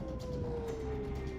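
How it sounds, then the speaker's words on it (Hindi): An air raid warning siren in Israel during an Iranian missile attack wails a long, slowly falling tone, heard from a distance over low background rumble. "इजराइल के सभी शहरों में खतरे के सायरन गूंजने लगे।"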